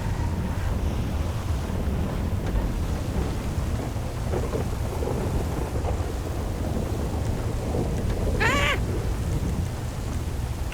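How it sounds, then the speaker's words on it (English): Heavy rain and rolling thunder from a severe thunderstorm in a FiveM racing game, a steady loud downpour with low rumbles throughout and a brief higher-pitched sweep near the end. "No, this is a severe weather."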